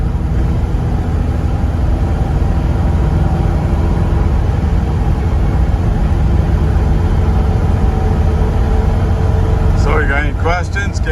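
A 1972 Chevrolet K10 truck with a three-speed Turbo automatic drives steadily, its engine and road noise droning loud and constant, with a shift change near the end.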